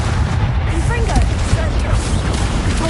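Fire spell explosions cast in the video game Hogwarts Legacy, a dense stream of booms and bursts layered over game music and effects, loud and continuous.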